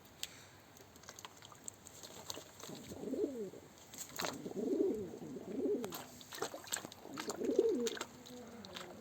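Pigeons coo in soft, repeated low calls, several rounds spaced a few seconds apart, with light rustling and patter around them.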